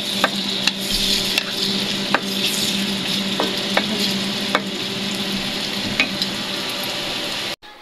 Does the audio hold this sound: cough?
no